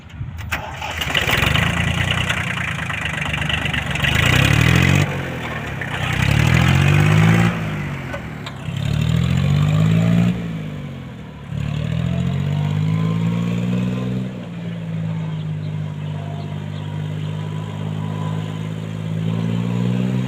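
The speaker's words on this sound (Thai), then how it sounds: "ตัวนี้เครื่องยนต์สามสูบนะครับ" A Kubota L1802DT tractor's three-cylinder diesel engine cranks and revs in several rising bursts, then settles into a steady, close, loud idle.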